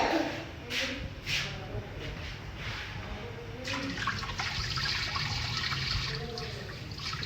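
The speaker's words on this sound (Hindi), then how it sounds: "अभी चावलों में से पानी निकाल लेंगे" Water pours and splashes steadily nearby as it is drained off soaked rice in a home kitchen, a continuous wet rush with a few sharper splashes.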